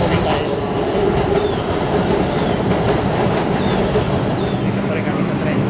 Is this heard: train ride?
yes